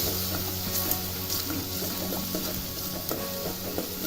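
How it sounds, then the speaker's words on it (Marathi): A paste of ground cumin, garlic, ginger and green chili sizzles steadily in hot oil while being stirred, a continuous crackling fry with occasional soft scrapes of the spoon. "आता हे चांगलं परतून घ्यायचं"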